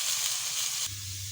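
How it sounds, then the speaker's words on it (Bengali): Oil with turmeric sizzling in a pan, a steady bright hiss that shifts to a lower, calmer fry partway through. "তো আমি প্রথমে হলুদ দিয়ে একটু ভেজে নিচ্ছি"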